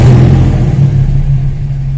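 Toyota Corolla Big Body GLi engine, warm, starting and revving, a steady loud mid-pitched hum and rumble that holds close and even throughout.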